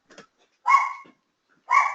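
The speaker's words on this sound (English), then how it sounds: "let me quiet my dogs down" Dogs barking indoors, a faint yip followed by two loud, close barks about a second apart, with quiet gaps between.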